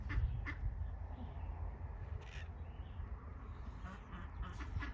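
Chickens squawking and clucking in short scattered calls outdoors, moderately close, over low rumbling background noise.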